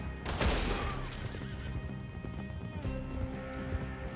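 A horse in Red Dead Redemption 2 gives a loud, shaking whinny near the start, then hooves clip-clop steadily through a busy game soundscape for about four seconds.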